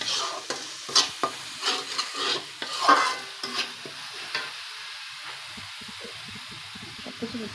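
A spoon stirs spice ingredients in a frying pan, with a series of distinct scraping strokes in a loose rhythm over the first few seconds, then a faint sizzle continues alone.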